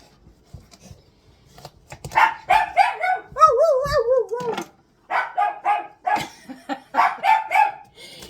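A hound dog barks and bays in repeated howling yips, loud and close, with a drawn-out wavering howl in the middle.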